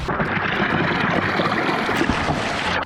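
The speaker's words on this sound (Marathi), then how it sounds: "वाटेत चालता चालता असे धबधबे लागतात" A steady, loud rush of falling water roars without pause, a dense broadband wash that cuts off abruptly at the end.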